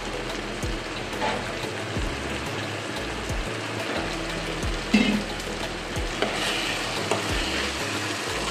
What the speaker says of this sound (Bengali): এবার আমি বাটা মশলাগুলো দিয়ে দিচ্ছি।